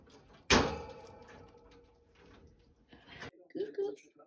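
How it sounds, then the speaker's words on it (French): A pet parrot's cage being opened indoors, a sudden metallic clatter followed by softer rattling, with a person talking nearby. "Voilà, on va aller ouvrir la cage."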